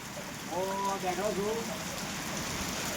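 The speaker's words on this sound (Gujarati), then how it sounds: "વરસાદ પણ સારો ચાલુ છે" Steady rain patters down evenly, a soft continuous hiss with a faint voice briefly audible underneath.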